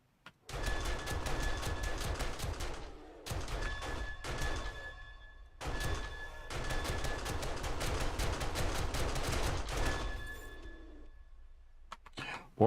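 Base turrets in the 7 Days to Die video game fire at a bear in long rapid bursts of automatic gunfire, with short pauses between volleys, loud and close.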